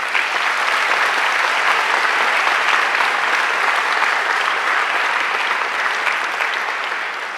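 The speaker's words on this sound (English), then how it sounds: "I think she deserves another great round of applause." Sustained audience applause fills a graduation ceremony hall, a dense, even wash of clapping from a large crowd that holds steady and eases slightly at the end.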